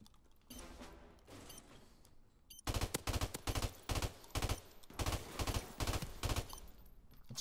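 Automatic gunfire in a Call of Duty match: a long run of loud, rapid bursts with short gaps between them, close and dominant, following a quieter stretch of game ambience.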